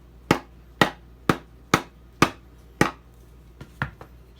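A mallet strikes the handle of a Tojiro Shirogami santoku set up on a block, knocking it loose with about eight sharp, evenly spaced wooden knocks, close and loud, the last few lighter.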